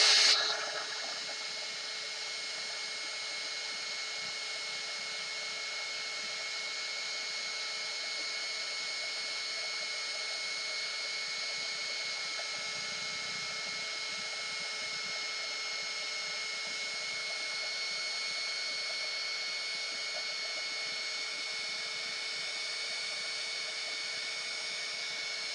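A heat gun blows steadily and evenly, warming a small vellum paper butterfly for embossing. The hot-air whine holds at a constant level from start to finish with no voices.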